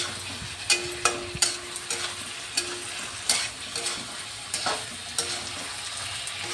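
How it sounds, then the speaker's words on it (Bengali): A spoon stirs chicken curry with potatoes in a pot after the lid is lifted. It makes irregular scraping clinks over a soft, steady sizzle. "আমি আবার উঠিয়ে ঢাকাটা উঠিয়ে আবার একটু নেড়ে চেড়ে দিচ্ছি।"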